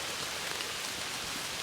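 Rain falling steadily on the Appalachian Trail, a dense, even hiss of drops on surfaces, constant and close with no pauses and no voices.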